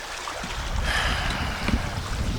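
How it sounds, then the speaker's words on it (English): Wind and lapping lake water around a canoe on a fall camping trip in Temagami, Ontario: a steady broad rush with soft splashes, fairly close, and no speech. "You can hear the waves, the wind's coming towards us now."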